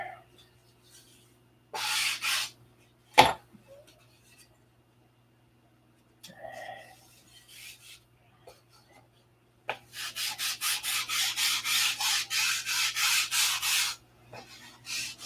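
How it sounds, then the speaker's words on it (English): Wood being hand-sanded before covering during a model-building session: a short burst of scratchy strokes early on, then a longer run of steady, rhythmic back-and-forth rubbing near the end, close and fairly quiet, with brief knocks and pauses between. "I only sand down to 320 before covering. You could sand down to 400, 600, whatever."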